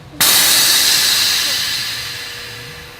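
Air suspension on a Viper front lift setup dumping air: a sudden loud, close hiss bursts in and holds steady, tapering slowly over about three seconds, with no talk over it.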